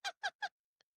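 Three short, bright calls in quick succession from nearby chickens, then a faint tiny chirp, with no talk over them.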